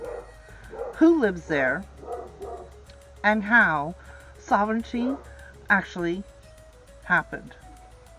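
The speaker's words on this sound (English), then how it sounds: "Excuse the dog." A house dog, agitated by construction next door, yips, barks and whines in repeated bursts while someone talks over it.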